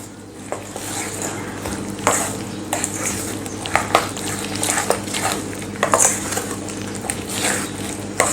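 Chana dal bhaji batter seasoned with salt and asafoetida is stirred by hand in a bowl, giving close, repeated wet slaps and scrapes in an uneven rhythm, with no voices.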